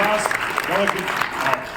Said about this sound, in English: Yes, great applause.